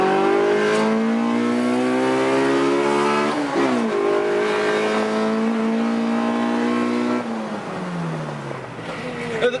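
A Nissan with an SR20VE engine roars through hard acceleration, pitch climbing through gears with brief drops at each shift, loud and close.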